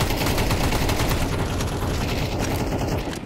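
A Tech-9 fires in a first-person shooter, dense and loud rapid shots hammering continuously from start to end.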